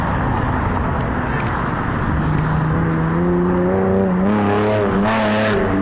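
Cars passing on a road, a loud continuous engine roar with engine pitch rising and shifting as vehicles accelerate by.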